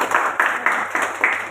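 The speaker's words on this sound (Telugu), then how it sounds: "చప్పట్లతో" Audience applause at a public stage event, a steady wash of many hands clapping together in rhythmic pulses, fairly near and filling the whole short moment.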